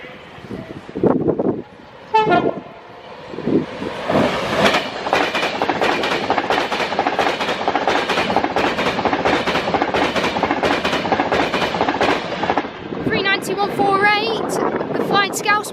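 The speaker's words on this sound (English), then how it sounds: "Flying Scousman working a service from London Euston to Glasgow High Level Central as Royal Scot arrives into the platform" Class 390 unit 390-044, the Flying Scousman, pulls into a platform at Crewe on a London Euston to Glasgow Central service. It opens with horn toots, then a loud, steady rumble and rhythmic clatter as it passes close, with talking underneath.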